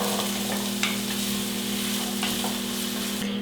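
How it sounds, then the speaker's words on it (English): Onion sautéing in olive oil over medium heat, a steady close sizzle with a few faint stirring scrapes and a low hum beneath, no talking. "I have my onion sauteing in some olive oil on a medium heat"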